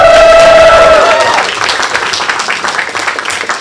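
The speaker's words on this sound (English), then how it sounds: "round of applause for the judges in the first half" Audience applause for the judges at a gong show, loud close clapping from a lively crowd with a held tone and cheering at the start, then steady clapping continuing to the end.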